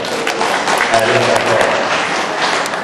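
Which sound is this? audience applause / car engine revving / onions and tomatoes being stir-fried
audience applause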